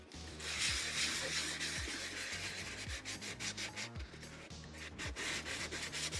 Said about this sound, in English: I'm using a 320 grit sandpaper with water.